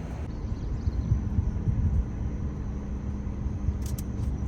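Steady low rumble of a car driving along a road, continuous engine and tyre noise with a brief higher rattle near the end and no talking.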